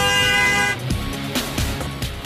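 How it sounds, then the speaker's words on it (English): A car horn honks in repeated short toots on a street in Crawley, loud and close over faint road traffic, with no talking. "Honk your horn if you think she's fit."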